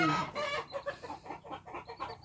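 Chickens cluck repeatedly in quick, uneven bursts close by, busy and moderately loud, with no talk over them.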